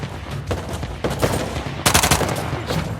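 Rapid bursts of gunfire in the action video game Uncharted: The Lost Legacy, loud and close, with dense automatic volleys peaking near the end, no talk over them.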